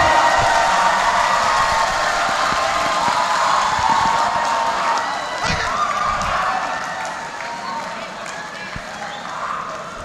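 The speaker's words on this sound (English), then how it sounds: "Give applause for him." Crowd applause at a TOEFL seminar as a guest speaker is welcomed, a broad, steady roar of clapping and cheering that gradually tapers and softens toward the end.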